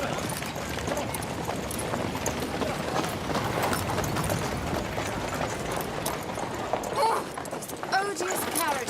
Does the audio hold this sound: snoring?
no